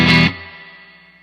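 Electric guitar played through a UAFX Dream pedal on its Marshall amp model, a single overdriven chord struck hard for a quarter second, then ringing out and decaying alone with a faint sustained tail.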